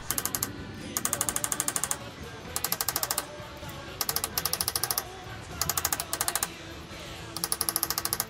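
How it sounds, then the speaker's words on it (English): Rapid bursts of metallic clattering as a hammer strikes a sprocket locking tab on a Triumph Tiger 900 motorcycle, in quick rhythmic runs, close and sharp, separated by short pauses. "just hit it with the hammer here in order to get this tab where it's straight up"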